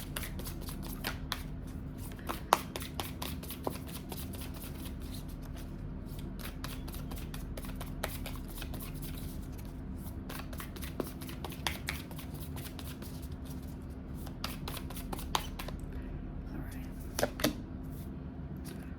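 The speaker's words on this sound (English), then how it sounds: "I'm going to go ahead and draw 2 of the Animal Spirit Oracle cards." Animal Spirit Oracle cards riffle and shuffle in a steady run of crisp, close flutters and snaps, with a low steady hum running beneath.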